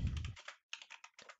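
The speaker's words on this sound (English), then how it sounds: "we can type in that character's name in here" A character's name is typed on a computer keyboard: quiet, quick bursts of key clicks with a short pause in the middle, close and alone without voices.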